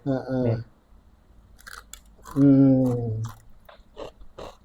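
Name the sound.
eating crispy fried Mustofa potato snack, crunching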